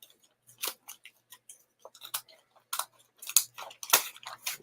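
A pair of scissors snipping in a series of short, crisp cuts with small pauses between them, fairly quiet and close, with no one talking.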